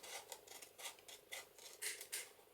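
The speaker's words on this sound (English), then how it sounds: "we're going to just take the scissors and trim" Scissors trimming paper along a fold line for a fold-over pocket in a Cinderella Little Golden Book journal, a quick run of about eight crisp close snips at a steady rhythm, with no talking.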